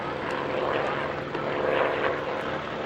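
A Breitling P-51 Mustang flies at the Duxford Flying Legends airshow, its propeller engine droning steadily and faintly at a distance, with a slight swell partway through.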